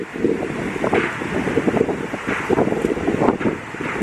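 Strong wind blows outdoors during a storm, battering the microphone with loud, continuous gusty rumble and buffeting that surges and dips throughout.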